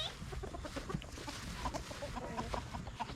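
Faint, soft clucking from chickens and a rooster mixes with scattered bird sounds at a distance, quiet and irregular.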